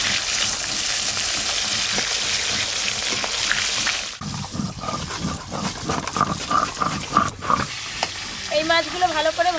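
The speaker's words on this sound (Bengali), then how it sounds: "এই মাছগুলো ভালো করে ভাজা হয়ে গেল" Fish frying in mustard oil in a home kitchen, a steady close sizzle that fills the first half and then turns choppier and more broken, with stirring and a few voices or tonal sounds near the end.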